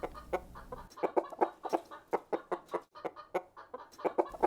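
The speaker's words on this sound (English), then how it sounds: "chicken" A chicken on a farm clucks in a quick, uneven run of short, sharp calls, close and fairly clear, with no talking.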